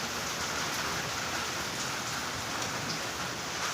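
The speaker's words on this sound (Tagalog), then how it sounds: "Ngayon, umuulan dito sa bahay." Steady rain pours down on a house in a dense, even hiss, drops pattering on a hard surface with no pauses.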